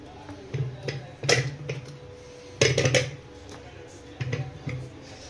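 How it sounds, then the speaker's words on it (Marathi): Several clanks and knocks of a metal pressure cooker as potatoes are put in to boil, with short bursts of handling the pot and lid, spaced irregularly with quiet gaps between. "आणि आता हे कुकरमध्ये उकळायला टाकतो मी"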